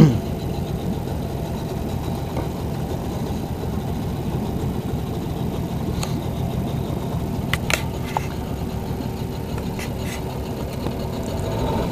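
A steady low boat engine drone runs throughout at moderate level, with a few brief sharp clicks and knocks partway through.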